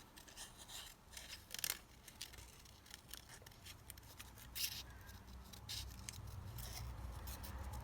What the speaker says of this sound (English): let's just cut that out